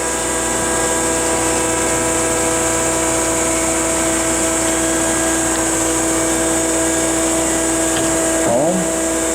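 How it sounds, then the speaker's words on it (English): A Glebar PG-9BHD centerless form grinder with its hydraulics and work wheel running together gives a loud steady industrial drone with a strong whining tone, holding even throughout, with a brief pitch sweep near the end. "The whole thing running, hydraulics and work wheel together."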